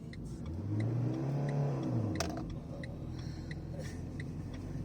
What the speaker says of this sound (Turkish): Ayağını debriyajdan kaldırmadan gazı verdi